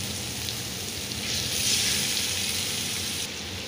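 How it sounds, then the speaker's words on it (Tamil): Pieces of tuna fish frying in hot oil, a dense continuous sizzle and crackle that swells briefly in the middle, close up and steady with no talking. "எல்லாத்தையும் போட்டு நல்லா ஃப்ரை பண்ணி நல்ல முருகலாக ஃப்ரை பண்ணி எடுக்கணும்"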